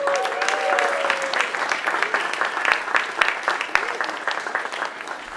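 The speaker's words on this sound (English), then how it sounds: "Can we get a round of applause for our next presenter, Mr. Nic Hard?" A conference audience claps for a presenter, a dense, continuous round of applause that thins and becomes more scattered toward the end, with some voices mixed in.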